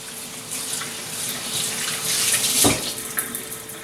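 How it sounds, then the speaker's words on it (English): Water gushes from a kitchen tap as hands are washed during cooking, a steady hissing stream close by with splashy fluctuations and a brief louder splash midway, no talking. "Now let me wash my hands real quick."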